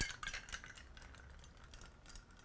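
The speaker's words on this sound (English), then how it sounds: "in this case, we're going to stir." A bar spoon stirs a bourbon tiki cocktail with pineapple in a glass, giving a faint, quiet run of light clinks and swirling scrapes that continues steadily through the whole stretch.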